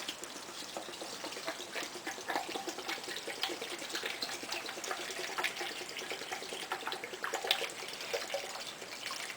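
Alcohol is poured into a container to submerge an HO scale locomotive for paint stripping, a faint, steady trickling and gurgling of liquid that continues unbroken, with no voices.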